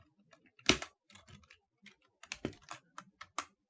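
Keystrokes on a computer keyboard as code is typed, a close, irregular run of sharp clicks with one louder strike early and several quick bursts after, alone without talk.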